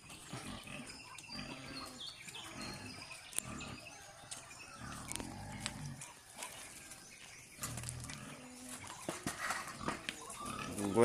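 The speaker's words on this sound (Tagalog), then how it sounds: "Mga baboy, mga kanding." Pigs and goats on a farm grunt and call in a noisy outdoor mix, with people talking throughout.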